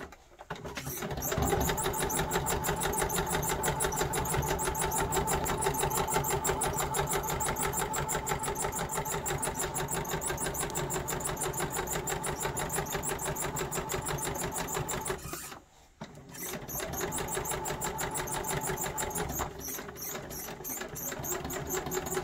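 A sewing machine stitches trouser pieces in a fast, even rattle that runs close and loud for most of the clip, pausing briefly once before starting again.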